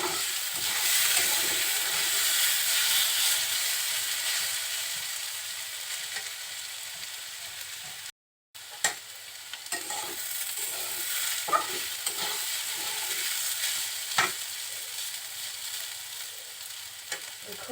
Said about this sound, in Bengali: কিছুক্ষণ পর পর একটু নেড়ে চেড়ে দিতে হবে, যাতে নিচে লেগে না যায়।